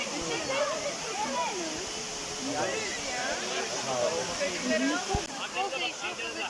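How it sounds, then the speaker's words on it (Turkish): Rushing water from Ilıca Waterfall in Horma Canyon, Turkey, flowing between rocks, makes a constant broadband roar, with voices and chatter heard over it throughout. "Ilıca Şelalesi böyle kayaların arasından mübarek akarak geliyor."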